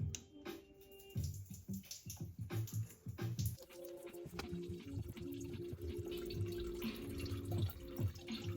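Coolant drains and drips from a Honda engine: a close, steady trickle of liquid with irregular drips and splashes, starting patchy and then settling into a continuous flow.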